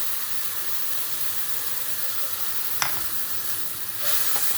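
Mango pickle goes into hot oil with fried chillies, making a continuous close sizzle with a sharp clack partway through and a louder burst of hissing near the end.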